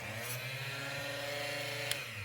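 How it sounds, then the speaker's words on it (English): A Drill Master mini cutoff saw whines at a steady pitch cutting wood, loud and close, with a brief tick near the end. "this wonderful Drill Master mini cutoff saw from Harbor Freight"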